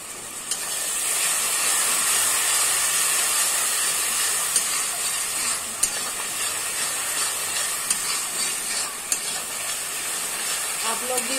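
Water poured into frying masala for a bitter gourd curry sets off a loud, continuous steamy sizzle and hiss in the pan, close, with a few small pops and clinks, and no talking.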